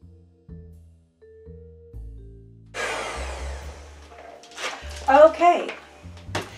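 Electric mixer creaming gluten-free vanilla wafer dough in a home kitchen, a loud broadband whir starting partway through after low hums and clunks, with someone talking over the motor near the end.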